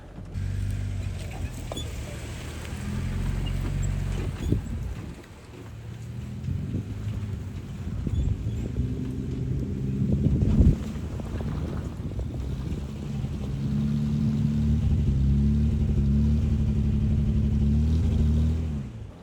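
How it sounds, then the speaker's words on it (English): An off-road vehicle on a trail eases its tires into a soft muddy patch in two-wheel drive, engine droning low and steady with creaks, squelches and bumps, rising as it pushes in. "I just found this little soft muddy area. We're just gonna dip our tires into it."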